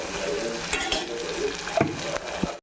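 Onion pieces frying in two spoons of oil with cinnamon, cloves, cardamom, coriander and mint for a biryani, giving a close, bright sizzle with stirring scrapes and a few metallic taps.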